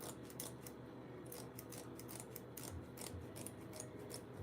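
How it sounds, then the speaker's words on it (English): Scissors snip through paper in a quick run of close, crisp cuts with a steady rhythm, quiet and alone, while a paper craft mask is being made. "Scissors, yes. Just gonna go ahead and"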